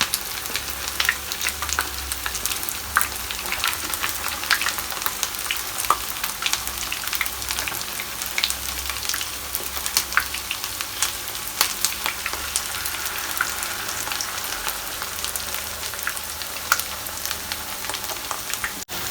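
Jamaican fritters fry in hot oil with a steady, dense sizzle that crackles continuously for the whole stretch, close up and with no talking.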